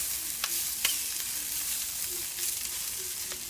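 Perogies stirred and coated with oil in a hot frying pan give a steady soft sizzle, broken by a few light scraping clicks as they are turned, with no voices.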